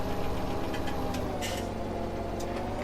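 A tractor engine in Farming Simulator 17 idles and chugs at a steady, low volume, with a faint rhythmic ticking running throughout.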